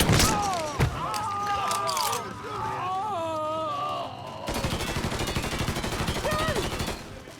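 Gunfire in the PC game Mafia III: Definitive Edition, sharp shots and bursts scattered through a chaotic firefight, with shouting voices and background music running underneath.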